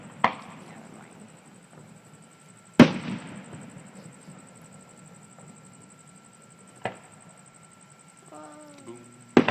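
Early Fourth of July fireworks burst at Briarwood Country Club, four sharp, distant bangs spaced several seconds apart over a quiet outdoor background, the last one followed by a faint whistling trail.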